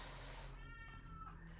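An agitated cat lets out a short, faint strained meow over a steady hum and background noise indoors, heard alone without talk.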